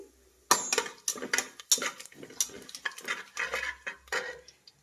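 A utensil scrapes and clinks against a pan as whole spices, a little shahjeera and fennel, are stirred together for tomato bath, in a close, irregular run of sharp taps and scrapes with brief pauses.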